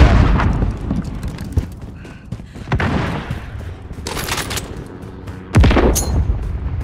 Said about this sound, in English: Grenades out! Flash out!